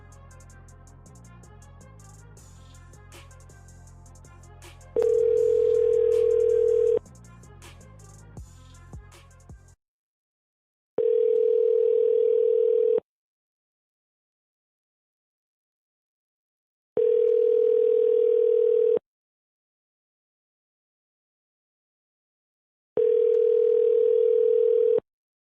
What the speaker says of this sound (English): I'm making a phone call real quick.